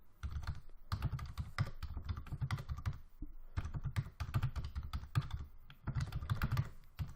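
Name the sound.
typing on computer keyboard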